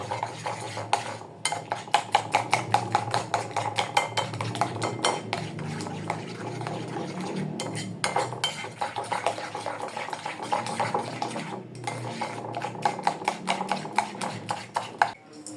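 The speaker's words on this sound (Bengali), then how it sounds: "কর্নফ্লাওয়ারটা ভালোভাবে মিক্সড করতে হবে" A spoon scrapes and clinks against a pot while cornflour is stirred into a homemade Thai soup, brisk repeated metallic taps and scrapes in quick rhythm, close and moderately loud, with brief pauses.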